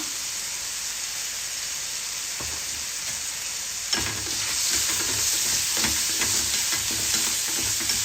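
Tomato and a pinch of turmeric frying in a pan, a steady quiet sizzle that swells louder midway as more goes in, with scattered soft scraping of stirring.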